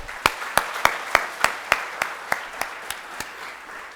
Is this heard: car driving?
no